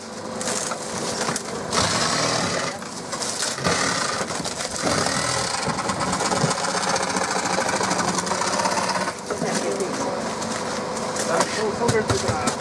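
A steady, rasping saw cuts continuously for several seconds, loud and close, with brief pauses and a voice speaking underneath.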